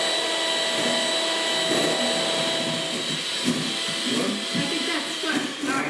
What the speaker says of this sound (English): what we're gonna do is we're gonna turn these egg whites into stiff peaks